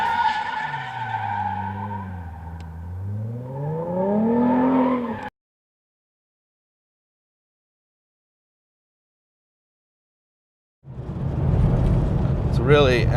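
A 2011–2014 Mustang GT with a Borla exhaust accelerates hard, its loud rising engine note sweeping up with tire chirps and skid noise, breaking off into silence before another loud burst of engine and road noise returns.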